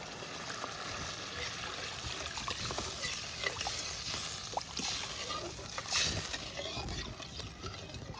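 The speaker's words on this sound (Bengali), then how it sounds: "একটু জল দিয়ে দেবো।" Water is poured into a cooking pot of prawns in coconut malai and mustard sauce at a village cookout. A soft continuous trickle and splash runs at close range with light background noise.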